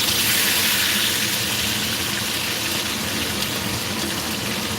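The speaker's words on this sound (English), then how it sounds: "I'm just gonna fry these for anybody who just wants plain chicken." Plain chicken pieces frying in a pan, a loud, constant dense sizzle and crackle filling the whole stretch with no talking.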